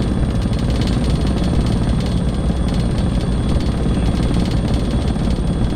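A helicopter hovers in a desktop flight simulator as it taxis toward helipads in moderate to strong wind, giving a loud, constant rotor thrum and engine drone with a rapid pulsing beat throughout and no voices.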